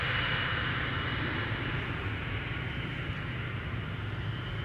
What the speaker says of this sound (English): Preceding it, the KLM 100 years 787-10 Dreamliner to Bangalore.